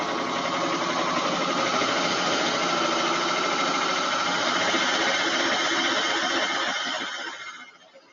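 A sewing machine, likely a serger, runs continuously as it stitches a rolled hem, giving a loud, even buzzing whir for about seven seconds before winding down and stopping. No one speaks.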